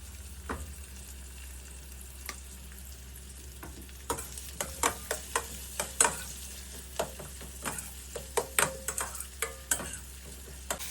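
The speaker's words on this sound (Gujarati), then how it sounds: "ડુંગળીને થોડીક વાર આપણે તતરાવા દઈશું" Chopped onions frying in a pan for Gujarati muthia dhokla, a steady low sizzle with scattered stirring clicks and scrapes that grow more frequent toward the end, heard alone and close.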